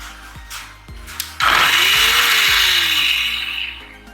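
A kitchen mixer grinder whirs up with a small jar of bread and boiled potato, after a few soft clicks, into a loud steady high-pitched grinding roar that runs for a few seconds before easing off, close and alone.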